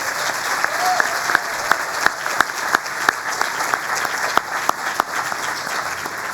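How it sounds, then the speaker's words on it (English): Sustained audience applause at a 25-year celebration ceremony, a steady wash of many hands clapping with a few sharper, louder claps standing out near the microphone, continuing throughout without talk. "Please give them another round of applause."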